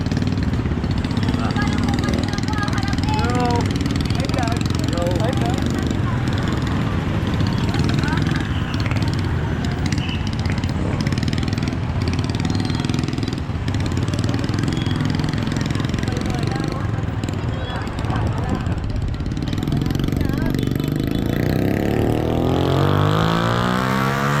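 Road traffic passing close by, with car and motorcycle engines rumbling and revving in a continuous wash, one vehicle rising louder near the end, and people talking over it.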